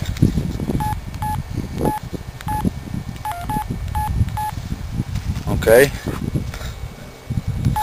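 A mobile phone keypad gives a quick series of short electronic dialing beeps, spaced irregularly over close rustling and handling noise, with a brief spoken word.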